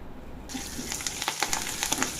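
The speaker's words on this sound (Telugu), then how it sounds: "రెండు రెమ్మల కరివేపాకు కూడా వేసుకుని ఇంకొకసారి వేయించుకోవాలి" Dried red chillies and curry leaves frying in hot oil, a sizzle that jumps up suddenly as they hit the pan, then continues with sharp crackling pops close by.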